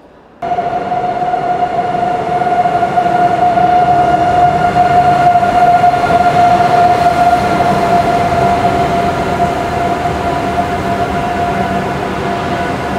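A train idles at a station platform in Barcelona, Spain: a steady loud rumble with a sustained tonal hum, starting abruptly and holding constant throughout, no voices.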